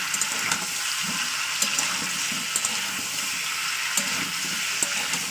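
Ginger-garlic paste sizzling with chicken in a pan for chicken kosha, a steady bright hiss and crackle with soft scraping stirs throughout, no voice.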